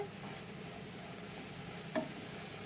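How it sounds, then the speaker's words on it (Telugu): Fenugreek leaves stirred and frying in a pan with salt, a soft steady sizzle with faint scraping and one brief clink of the spoon. "ఇదంతా కలిపేసుకొని కొంచెం వేగనిద్దాము."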